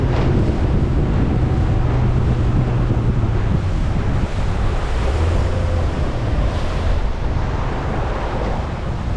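Strong wind buffets the microphone on a rough boat ride, roaring steadily and loudly under a low motor rumble and water slapping against the hull, with no talking.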